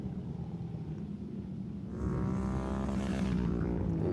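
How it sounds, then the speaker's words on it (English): A flat track racing motorcycle at the Daytona short track passes the start-finish line on its rev limiter, its engine note swelling in loudly halfway through over steady crowd and track noise. "You hear that rider just went by here at the start-finish line on the rev limiter."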